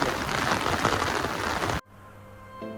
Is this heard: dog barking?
no